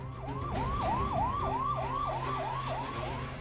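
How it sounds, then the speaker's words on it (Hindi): An ambulance siren wails in a fast repeating rising yelp, about eight cycles, moderately distant over steady background street rumble, echoing through a neighborhood at night. "थोड़ी देर में एम्बुलेंस की सायरन से इलाका गूंजने लगा।"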